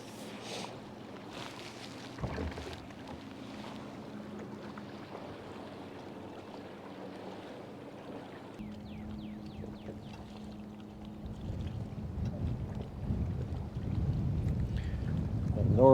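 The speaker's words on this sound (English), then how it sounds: "North wind starting to pick up a little bit." A north wind blows outdoors on the water while fishing, a steady breathy rush and microphone buffeting that grows louder and rougher toward the end, with light splashes and handling noises.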